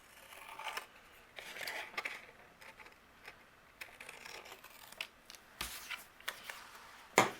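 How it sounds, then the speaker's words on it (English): Scissors trimming the edges of a cardstock mat: a handful of soft, separate snips and paper rustles close by, quiet overall, with a sharper cut near the end. "And then I'll just trim away the sides."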